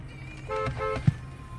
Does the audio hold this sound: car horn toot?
yes